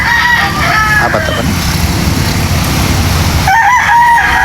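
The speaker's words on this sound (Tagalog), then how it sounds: "Oh, napakagandang mga manok dito." Fighting cocks crow at a rooster yard in Badian, Cebu: one crow near the start and another toward the end, over a steady broadband background with brief speech.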